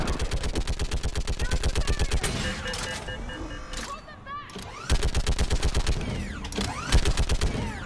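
Rapid mounted-gun fire in the video game Mass Effect 3, loud bursts of evenly spaced shots with a short pause midway, then fire resumes; voices call out over the shooting.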